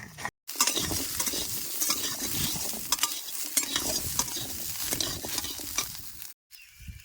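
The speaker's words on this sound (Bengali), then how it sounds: "আমরা গুঁড়াটা তেলের সাথে বেশ সুন্দর করে ভাজা ভাজা করে নিছি" Ground spice powder frying in oil in a pan while making a pickle, stirred continuously with steady sizzling and scraping. The sound is close and fairly loud, with two brief pauses.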